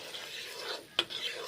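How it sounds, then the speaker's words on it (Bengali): Spices with ground cumin being stirred and fried in a pan, a brief scraping rustle with one sharp utensil tap against the pan, quiet and close. "কষে নিচ্ছি এখন ভালো করে কষে নিচ্ছি"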